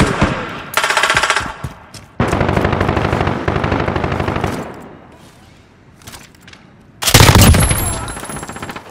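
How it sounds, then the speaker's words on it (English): Automated sentry gun in Call of Duty Modern Warfare firing loud, rapid machine-gun bursts in several separate volleys, with game voice announcements and other battle sounds around them. "Friendly sentry gun deployed."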